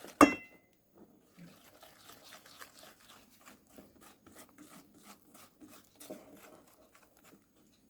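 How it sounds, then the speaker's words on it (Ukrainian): Waffle-roll dough being mixed by hand in a bowl after melted butter or margarine is added, giving a steady run of soft rubbing and scraping strokes at close range with no talk. "І замішуємо тісто."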